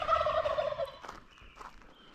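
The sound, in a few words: wild turkeys gobbling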